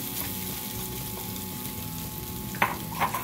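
Grated coconut frying in ghee in a hot pan, a dense continuous sizzle with soft stirring scrapes, close up, ending in a couple of sharper utensil knocks.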